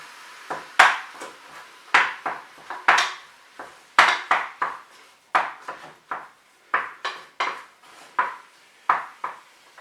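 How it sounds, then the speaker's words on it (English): A spatula strikes and scrapes a pan while breaking up browning mince for chilli con carne, giving a run of sharp, irregular metallic clacks close by, with no talking. "Just going to chop that up with a spatula just to break up the mince."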